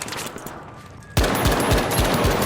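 A Desert Eagle pistol fires in The Finals as a quick, evenly spaced string of loud, punchy shots that break in suddenly after a quieter moment.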